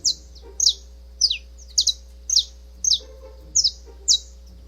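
A saffron finch sings a series of bright, sharp high chirps, about eight evenly spaced bursts, fairly close and clear over a low steady hum.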